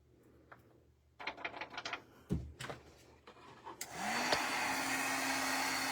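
After a few seconds of tapping and handling sounds, a heat tool switches on and blows a steady, loud whoosh as it warms a collage on acetate. The whoosh continues to the end.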